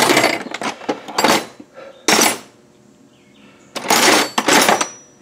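Metal hand tools, wrenches and ratchets, clatter and clink in a pile as someone rummages through them during engine removal on a Porsche 944 V8 project, in three quick bursts with short pauses between.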